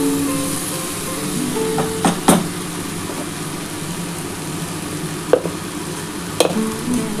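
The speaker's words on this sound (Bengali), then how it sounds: "ভালো করে কিন্তু টমেটোটা দিয়ে ভাজা ভাজা করে নিতে হবে।" Tomato fries in a pan for a vegetarian cabbage, potato and poppy-seed dish, a soft steady sizzle broken by a few sharp clicks of a spoon stirring against the pan.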